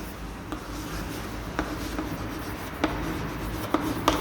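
Pen or marker writing on a board during a chemistry lesson: faint scratchy strokes with sharp taps at irregular intervals over a low background hum.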